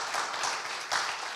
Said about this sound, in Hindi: जोरदार तालियों की तरह स्वागत